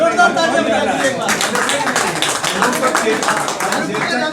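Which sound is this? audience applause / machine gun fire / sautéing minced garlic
audience applause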